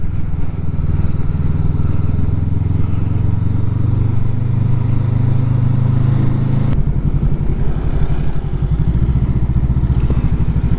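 A VOGE 500 R (500 AC) motorcycle being ridden, its engine droning loud and steady close by, the tone dropping abruptly partway through as if shifting gear, with no talking.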